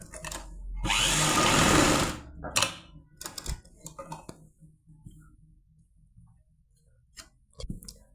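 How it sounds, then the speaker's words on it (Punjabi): An electric sewing machine stitches a lined shirt in a tailor's workroom, with one long loud run followed by several short bursts and gaps between them. "ਇੱਧਰ ਆਪਾਂ ਆਪਣੇ ਸੂਟ ਤੇ ਗ੍ਰਾਫ ਸਟਿਚ ਲਾ ਲੈਣੀ ਹੈ"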